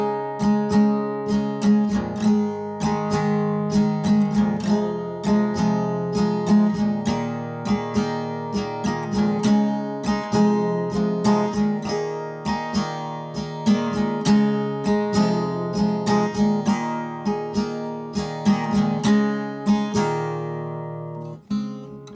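Slow acoustic guitar strumming of a song, played with the fingers, giving a dense run of quick percussive strums over ringing chords, steady and close for about twenty seconds, no talking.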